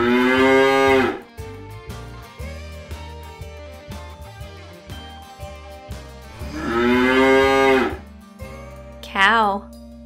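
A cow gives two long, loud moos several seconds apart over a soft plucked musical backing, and a short voice follows at the end.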